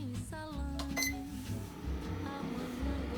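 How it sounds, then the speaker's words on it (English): A rice cooker sounds a short series of electronic beeps as its start button is pressed, close and soft, with a faint hum and some low background noise. "Put your rice bucket in the rice cooker and hit start."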